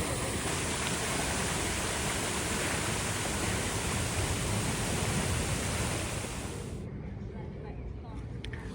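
Water in a bay at Nice cascades over with a loud, steady, broadband rushing roar that cuts off abruptly near the end, leaving faint ambience.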